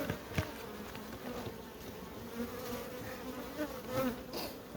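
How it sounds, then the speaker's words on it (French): Honeybees buzzing steadily over and around an opened hive super during a quick inspection, a dense continuous hum with a few louder passes close by. "2-3 abeilles dans la hausse"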